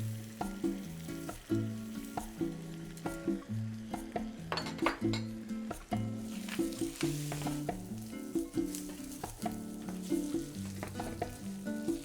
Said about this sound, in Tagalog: it's time to add our Spanish chorizo and let the fat render